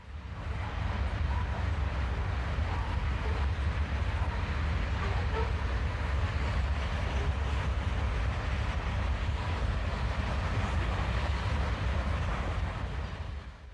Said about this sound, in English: A matched set of General Electric 940Cs get underway with a long train of Kentucky coal